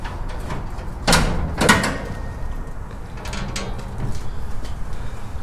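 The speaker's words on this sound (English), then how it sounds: "Let's open the hood" Hood of a 1969 Dodge Coronet 500 with a 440 engine being opened, two close metallic clunks about half a second apart followed by softer latch and hinge rattles and a quiet outdoor background.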